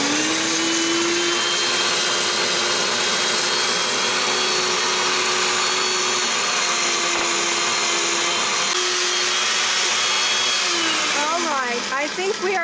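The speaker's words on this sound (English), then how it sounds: "We're going to puree again because we don't want to have all those little specks of the chili." A blender purees homemade Mexican chili salsa with a steady, loud motor whine that holds for several seconds, shifts pitch and then winds down near the end.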